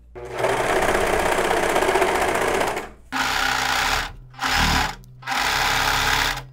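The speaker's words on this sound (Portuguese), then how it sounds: "overlock, eu vou começar fazendo a costura do centro das costas" An overlock sewing machine runs close up while stitching the center back seam of a knit tube dress, giving one long whirring run and then three shorter bursts separated by brief pauses.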